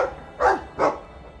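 A dog barks twice, mid-distance, in the Dragon Age 2 video game, two short evenly spaced woofs over a low steady background hum.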